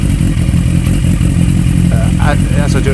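A Kawasaki ER6 motorcycle engine idles steadily while warming up, a loud, continuous mid-range rumble with faint clatter. A voice talks over it briefly toward the end.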